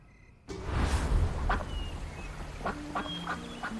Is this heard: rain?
no